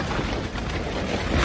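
Strong night wind on a mountain campsite at Tugela Falls in the Drakensberg, a loud continuous roar buffeting the microphone and tent fabric.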